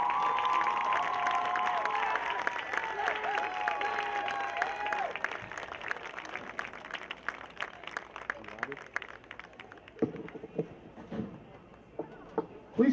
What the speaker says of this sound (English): if we could give one more round of applause for all our seniors this evening